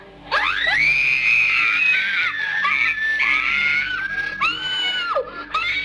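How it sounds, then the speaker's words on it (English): Several girls scream loudly and continuously at a chair moving in paranormal footage, shrill overlapping shrieks close by with a few rising and falling cries at the end. "The girls scream and the clip ends abruptly."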